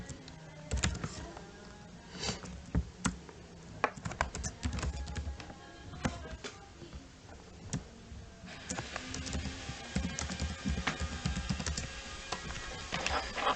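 Typing on a computer keyboard: irregular bursts of close, crisp key clicks, sparse at first and then faster and denser in the second half, with no talking.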